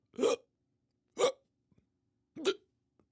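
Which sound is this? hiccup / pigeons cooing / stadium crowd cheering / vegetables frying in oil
hiccup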